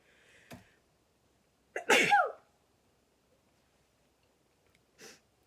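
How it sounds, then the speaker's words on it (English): One loud, close sneeze preceded by a small sniff, followed by a brief quieter breath or sniffle. "I'm going to sneeze, hold on."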